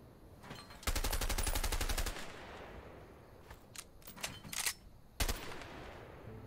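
An M14 rifle in the video game A Way Out fires in a rapid sustained burst lasting about a second, followed by a scatter of single loud shots and a final sharp report, all close and dominant.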